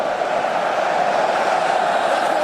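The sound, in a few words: stadium crowd roaring during a Mexican wave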